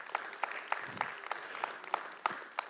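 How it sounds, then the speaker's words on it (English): Sparse applause at a speaker series talk event, a handful of separate claps spaced roughly evenly, fairly faint and distant with no voices over them. "Let's give them a round of applause."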